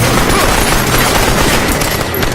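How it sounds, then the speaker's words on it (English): A dense, chaotic volley of rapid gunfire from robbers in a movie rattles continuously and loudly, with shots blurring together. "Their quarrel was interrupted by the robbers' chaotic gunfire"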